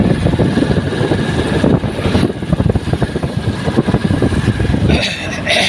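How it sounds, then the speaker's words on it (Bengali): A motorcycle ridden along a village road gives a steady, loud engine drone with wind rumble throughout, close to the rider. "বাইক চালাচ্ছি"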